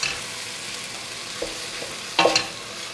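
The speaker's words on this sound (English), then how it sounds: "Sauteing these for roughly 10 minutes." Mushrooms sauté in a pan for a cream of mushroom soup, a soft steady sizzle with a couple of brief stirring scrapes, the louder one near the end, and no talking.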